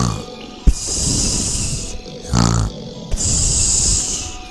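The cartoon Colour Monster snores while napping with young children at school: rasping, hissy breaths rise and fall in slow cycles, with a deeper snort in the middle and a soft thump early on.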